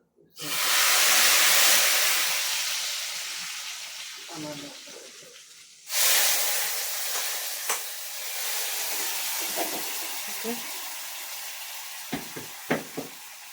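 Hot tempering with chili powder is poured over a curry, setting off a loud hissing sizzle that fades, then flares again with a second pour and slowly dies down while someone talks.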